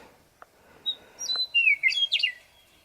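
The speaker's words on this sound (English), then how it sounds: "Look at that bird up there singing at me." A songbird sings outdoors, a few short chirps followed by bright, high warbling phrases in quick succession, fairly close and clear against a quiet background.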